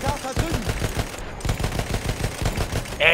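Rapid gunfire rattles in Battlefield 1, dense bursts of automatic shots in quick succession, loud and close, with a sharp louder burst at the end.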